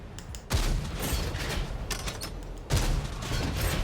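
Tank cannon fire in the console version of World of Tanks: two heavy, booming shots a couple of seconds apart, each followed by a loud rumbling, mechanical roar, close and dominant with no speech.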